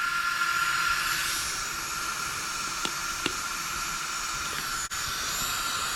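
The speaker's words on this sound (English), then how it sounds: "As you can see, I'm running a loud fan." Loud cooling fan on the electronics of a Serpent SRX8TE RC car, a steady close whirring hiss that runs unbroken throughout, with a couple of faint clicks.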